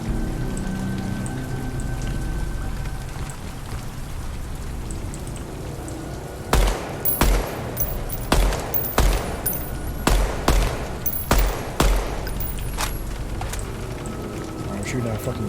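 Gunshots fired at cans and bottles in the video game DEADROP, a rapid run of sharp, loud reports in bursts over steady background noise, with a voice talking at times.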